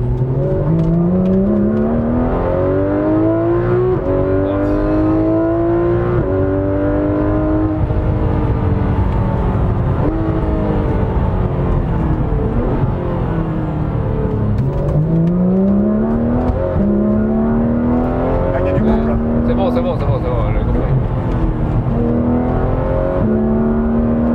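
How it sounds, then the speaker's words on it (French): A Porsche 911 GT3 RS (991) engine revs hard through several rising sweeps, dropping briefly between paddle gear shifts before climbing again, loud and close throughout. "C'est un moteur particulièrement vif qui propose une tessiture, une gamme de vocalises assez surprenante"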